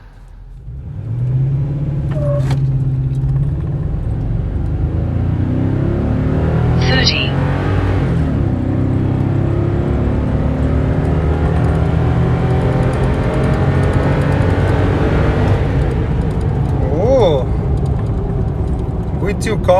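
A tuned Toyota Tundra pickup pulls hard through a 0-60 mph run, its engine droning loud and steady with rising harmonics and road rumble that last nearly twenty seconds, while a few brief sounds flicker over the top.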